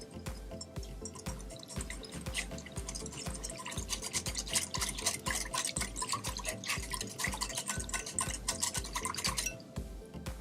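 Spoon stirs a honey marinade for a roasted beet salad in a bowl, making quick, rhythmic clinking and scraping strokes that run close and steady throughout before briefly slowing near the end.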